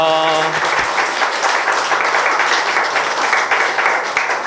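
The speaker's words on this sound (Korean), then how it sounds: "우리 하나님께 감사와 영광의 박수 올리겠습니다" Applause from a church congregation at a summer retreat, a dense steady patter of many hands clapping close by, with no one speaking over it.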